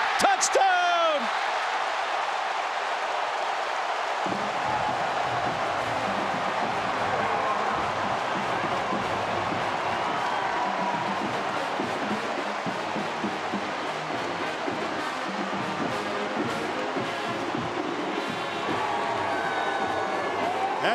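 A packed Ohio State football stadium roars after a touchdown in the 2009 game against Iowa. The loud cheering and clapping carry on without a break for about twenty seconds, and scattered whoops rise above the crowd.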